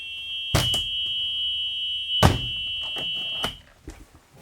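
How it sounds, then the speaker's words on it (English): A bus side emergency exit alarm sounds as a steady high electronic tone for about three seconds while the exit door is worked, with loud thunks of the door opening and latching near the mic, then the tone cuts off. "make sure they open properly and that the alarm works on those."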